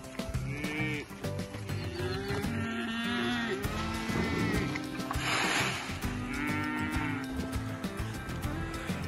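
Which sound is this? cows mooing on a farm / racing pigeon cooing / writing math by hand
cows mooing on a farm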